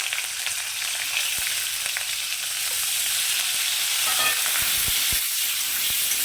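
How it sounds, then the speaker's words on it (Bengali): Soaked paneer pieces fry lightly in a pan for matar paneer, giving a continuous sizzle with occasional stirring knocks and scrapes, close and fairly loud, with no voices. "এখন পনিরগুলোকে আমি একটু হালকা ভেজে নেবো"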